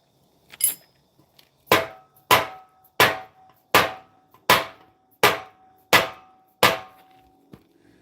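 Eight evenly spaced hammer blows strike a block of wood, sharp, loud knocks about three quarters of a second apart, each ringing briefly, with a faint tap before them.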